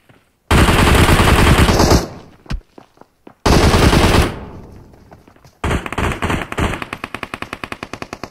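Gunfire in a PUBG Mobile firefight, loud close bursts of automatic fire separated by short gaps, ending in a run of evenly spaced rapid shots.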